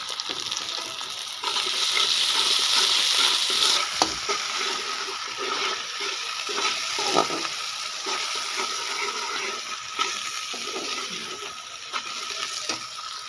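Red tomatoes frying in ghee with green garlic crackle and hiss in a steady, fairly loud sizzle, broken by occasional stirring clatters and small knocks from a utensil.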